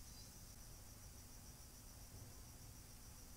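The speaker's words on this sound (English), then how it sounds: "Ah, the summer bugs." Steady, dense chorus of summer insects, cicadas and crickets, fills an anime soundtrack as a continuous shimmering drone with no pauses, alone and without voices.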